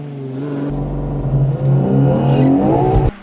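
A blue Ferrari Purosangue on warm-weather tyres launches hard from a standstill, with its engine surging into a loud, rising roar that climbs steadily in pitch before cutting off abruptly, heard close by.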